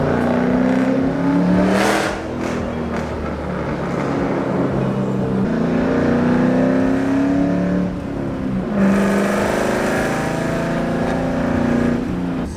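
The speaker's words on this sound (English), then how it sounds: "now I get to drive under one of these sweet little overpasses" A car with a catless exhaust drives under an overpass, its loud droning engine note rising and falling as it accelerates, echoing off the concrete.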